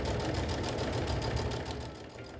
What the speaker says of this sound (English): Sew a 1/4 inch seam around the entire outer edges of the panel.